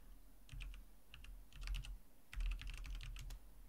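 Keystrokes clatter on a computer keyboard as commands are typed on an Ubuntu machine, arriving in quick irregular bursts separated by short pauses, close and fairly quiet, with no voices.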